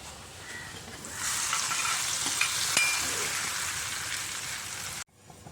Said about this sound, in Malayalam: നമ്മുടെ ഉള്ളി നന്നായി മൂത്തിട്ടുണ്ട് നമുക്ക് നമ്മുടെ കറിയിലേക്ക് ഒഴിച്ച് കൊടുക്കാം